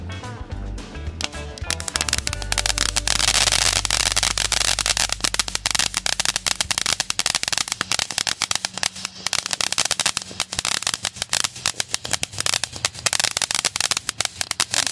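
Fourth of July rocket fireworks go off outdoors: a dense, loud barrage of sharp cracks and popping bursts that crackles almost continuously for the full stretch, with a low rumble early on.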